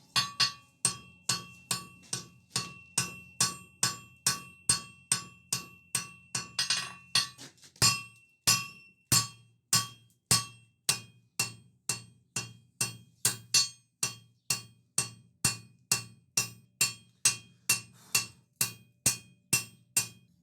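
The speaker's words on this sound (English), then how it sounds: "then we can draw out a taper going up the bar over the far edge of the anvil" Blacksmith hammering a hot steel bar on an anvil to draw out a taper while making a coal rake, with a steady rhythm of ringing, metallic strikes that go on for the whole stretch and shift in tone partway.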